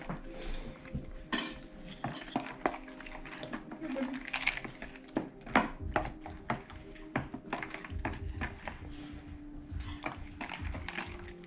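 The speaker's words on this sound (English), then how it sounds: "Angelina is mixing it now with the spoon" A spoon clinking and scraping repeatedly around a bowl as pumpkin pie filling is mixed, with people talking throughout.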